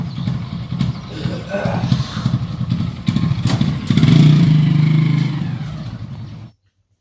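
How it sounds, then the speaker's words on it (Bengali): A motorbike engine runs steadily nearby for about six seconds, swelling louder midway before cutting off abruptly. "বাইকের আওয়াজ উঠে পড়বে"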